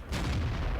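A tank cannon fires once in the World of Tanks video game, a single heavy boom that holds as a dense, rumbling tail through the short clip, with no talk.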